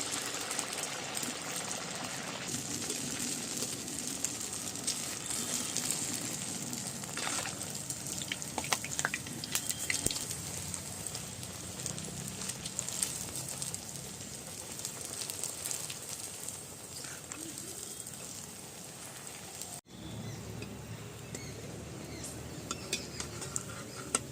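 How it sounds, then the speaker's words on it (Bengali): Flattened-rice (poha) luchi deep-frying in a generous amount of hot oil, a steady close sizzle and crackle running throughout with occasional clinks of utensils and no talk. "তেল গরম হয়ে গেছে এবার দিয়ে দিচ্ছি"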